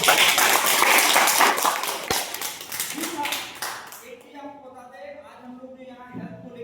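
Loud audience clapping at a health talk, a dense burst of many hands that fades after about four seconds into someone speaking.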